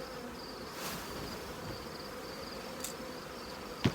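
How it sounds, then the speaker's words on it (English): Honey bees hum steadily at an open colony's fall brood nest, a faint continuous buzz with occasional louder passes of single bees near the ear. "Lots of bees in here, like look at these guys."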